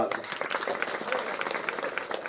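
An audience at a Marathi award ceremony applauds, a fairly faint, steady patter of many hands clapping throughout.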